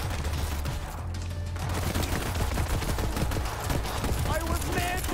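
Rapid gunfire from shotguns and other weapons in the shooter video game Borderlands 3, loud overlapping bursts and shots over thumping game music, continuing without pause; a voice talks over it.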